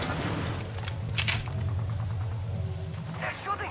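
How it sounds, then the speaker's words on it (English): Bursts of automatic gunfire in a firefight in the battle royale game Apex Legends, rapid rattling shots with a couple of sharper cracks over a busy rumbling background. "They're shooting at me."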